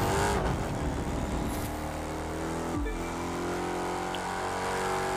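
Chrysler 300 SRT8 Crown Edition engine roaring steadily through a race in a video game, a continuous loud drone with shifting pitch as it accelerates, no talk over it.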